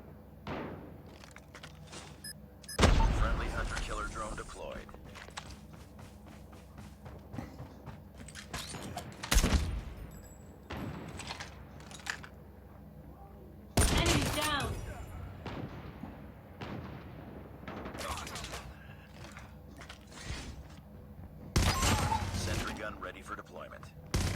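Gunfire from a LOCUS sniper rifle in the mobile video game Call of Duty Mobile, with several loud, sharp, reverberant shots spaced a few seconds apart over quieter game ambience.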